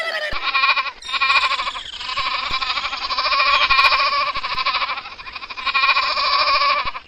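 Cartoon goat bleating in a Bengali animated comedy, a dense, continuous nasal bleat that wavers and pulses through the whole stretch at steady loudness, with brief dips between calls.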